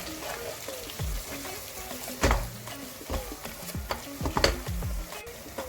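Onions frying in a pan are stirred at intervals, with a low sizzle underneath and several sharp scraping and clattering strokes of the utensil, close by.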